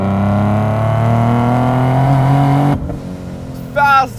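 A supercharged Nissan NISMO 370Z with a VQ37 engine making over 700 hp on 12 psi of boost runs loud and close, a sustained engine drone that cuts off abruptly, then a brief high chirping whine.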